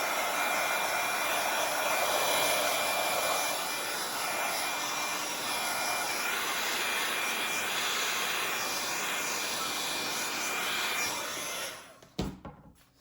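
A hair dryer runs steadily at close range, held up to dry a fabric book craft, its airflow whooshing with slight wavering, then it cuts off abruptly near the end with a few handling clicks.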